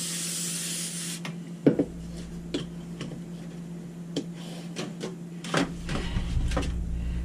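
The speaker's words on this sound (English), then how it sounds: "I'm going to spray this pan with Pam" Pam canola oil cooking spray is misted onto a cake pan in several short hissing bursts, close up, with small clicks and pan clatter in between and a steady hum behind.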